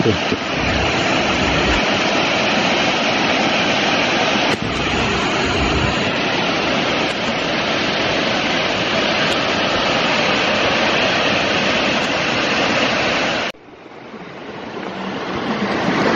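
Waterfall in the Mont-Dore massif, flowing as a steady, loud broadband rush of water that fills the scene for about thirteen seconds, then drops off abruptly into a quieter, thinner wash that slowly swells back up.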